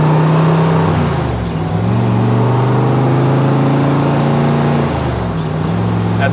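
A 1967 Chevrolet Corvette L71 with its 435hp V8 pulling through the gears, a deep loud engine note that climbs, dips at shifts and climbs again, heard from inside the car.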